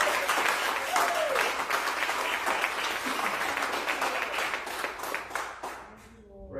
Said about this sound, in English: Can you give the Lord a hand clap?